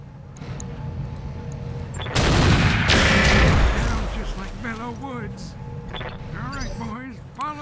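Mech weapons fire in a BattleTech (RogueTech) battle: a loud, dense volley of gunfire and blasts bursts out midway and dies down after a couple of seconds, set against game sounds with a voice talking throughout.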